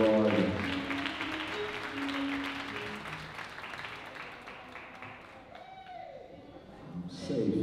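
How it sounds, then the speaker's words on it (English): Congregation applauding at a church celebration-of-life service, a broad wash of clapping that fades over several seconds, with music and voices mixed in and a brief voice near the end. "Put your hands together, let's applaud the Lord."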